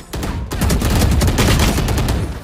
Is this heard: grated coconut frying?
no